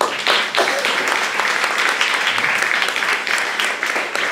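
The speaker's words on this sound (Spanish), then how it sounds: "un aplauso al Señor." A congregation at a religious gathering during a village fair in El Caulote, Santa Teresa, claps together, a fairly loud, lively burst of hand claps that holds steady for several seconds.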